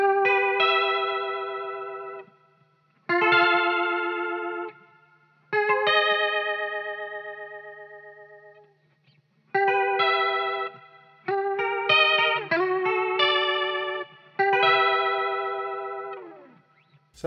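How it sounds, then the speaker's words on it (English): A guitar run through an effects pedal set for a rotary, flanger-like modulation, with strummed chords that swirl and warble. The chords ring out in bursts separated by brief silences. "Yeah, just a little bit of a flangery quality going on there."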